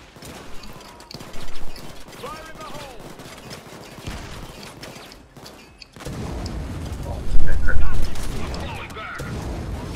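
Gunfire and grenade blasts in the Payday 2 video game rattle in dense bursts with heavier booms in the second half, mixed under excited player chatter.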